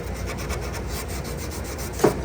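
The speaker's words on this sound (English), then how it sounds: "Just sanding." Steady rhythmic rasping of sandpaper rubbed back and forth over wood, close and continuous, ending with a brief sharper scrape.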